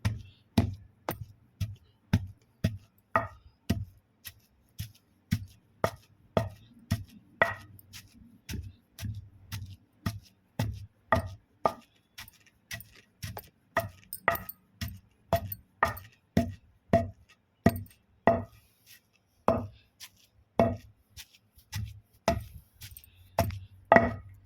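Tintaku chutney ingredients being ground into paste: a steady run of close, sharp knocks, roughly two per second, continuing without any talking.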